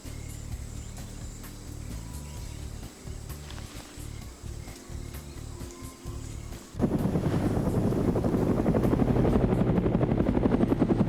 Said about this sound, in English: we got the choppers flying over them